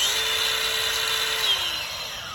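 A DeWalt 20V power tool, a grinder used for trimming horses' hooves, runs at its fastest RPM with a loud, steady high-pitched whine that drops in pitch and eases slightly near the end.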